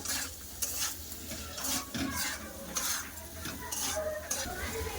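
Potatoes with chilli powder, turmeric and salt stir-fry in a pan, a close, fairly quiet sizzle broken by repeated scraping strokes of a spatula against the pan in an irregular rhythm, with no speech.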